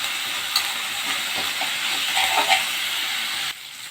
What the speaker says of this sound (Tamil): கீரை கொஞ்சம் நல்லா வதங்கிட்டோம்.